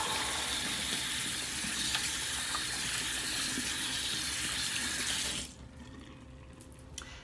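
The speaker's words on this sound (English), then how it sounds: "Wash my hands." Hands being washed under a running sink tap, a steady close rush of water for about five seconds that stops abruptly, leaving a quiet room.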